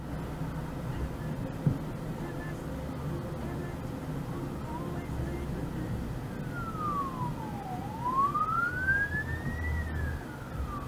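An ambulance siren heard from inside a car on the road, a wailing tone that rises and falls, moderately loud over steady engine and road rumble.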